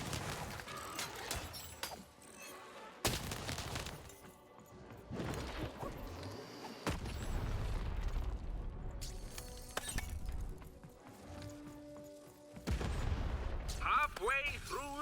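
Repeated booming cannon blasts and crashes from the video game Lost in Random, mixed with music and effects, with a voice talking over parts of it.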